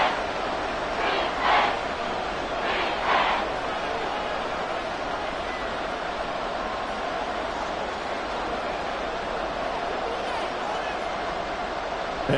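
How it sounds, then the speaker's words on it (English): Stadium crowd noise from a Madden 24 football game, a steady roar of cheering under commentary, swelling briefly in a few bursts near the start before settling into a constant background hubbub. "Crowd on their feet."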